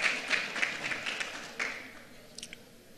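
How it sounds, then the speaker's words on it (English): An audience claps at a business event, a burst of applause that starts fairly loud and thins out to a few scattered claps by the end. "So let's give them a hand of applause."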